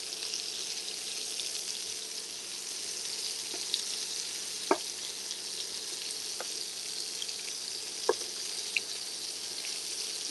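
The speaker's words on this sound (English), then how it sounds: "as soon as I'm done frying them" Mini meatballs fry in a pan with a steady, soft sizzle, punctuated by a few faint pops and clicks, heard close and alone.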